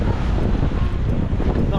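Strong wind roaring and buffeting against the microphone, a continuous loud rush with no pauses.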